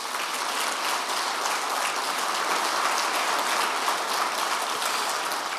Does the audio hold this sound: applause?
yes